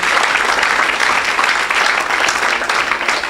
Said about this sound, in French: Can somebody clap for Jesus Christ?